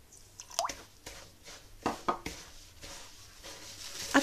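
Wet squishing and dripping as pistachio filling is gathered and pressed together with orange blossom water by hand for a Syrian stuffed pastry, soft close-up squelches and plops with a few light clinks of a bowl.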